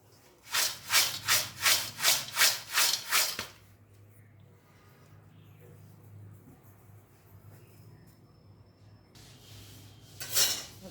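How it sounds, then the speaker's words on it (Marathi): A slotted spoon stirs a corn poha chivda mixture in a pan, about seven quick, even scraping strokes close up, then a quieter stretch of faint rustling before one more burst of stirring at the end. "आता हे हलवून घ्यायचं आहे एखाद्या झाऱ्याने वगैरे हे हलवून घ्यायचं आहे व्यवस्थित मिक्स करायचं आहे"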